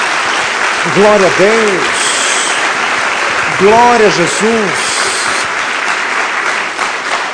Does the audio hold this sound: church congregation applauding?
yes